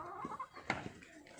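Roosters clucking close by, a few short throaty clucks and squawks in quick succession over a quiet background.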